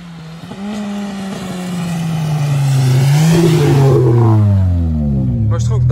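A Renault Clio 3 RS Cup engine revs up close, its pitch climbing steadily and growing louder over several seconds.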